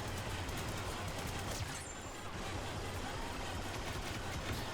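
Sustained blaster gunfire in Star Wars Battlefront 2, a rapid continuous stream of shots with a brief sharp high chirp partway through, loud and steady with no talking.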